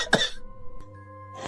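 A single sharp cough from an ill older person, close and loud, followed by a quiet room with a steady low hum and a faint click.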